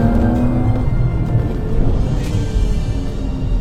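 A Porsche drives under steady acceleration, its engine a loud, continuous droning roar close by with a rising, sustained rumble throughout.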